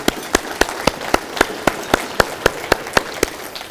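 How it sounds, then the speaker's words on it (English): At a State of the City address, clapping for the local power utility comes through as a steady, evenly spaced run of sharp, close claps, about four per second, with little crowd fill between them. "Let's give PSO a round of applause for all they do for our community."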